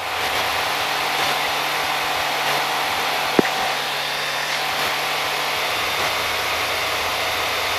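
CTLS light aircraft engine droning steadily in flight, a loud continuous cabin hum with no talk, one brief click partway through.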